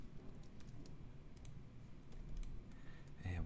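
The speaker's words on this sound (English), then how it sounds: "I'm going to type in uh, untrim." Soft keystrokes on a computer keyboard during 3D modeling work, typed in a quiet, steady patter of light clicks with a slightly louder tap near the end.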